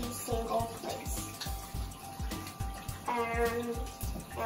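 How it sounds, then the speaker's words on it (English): A tap runs while hands are washed under it, a continuous watery stream broken by repeated splashy bursts and shifting gurgles as the hands move through the flow. "So the first step is you turn on the water"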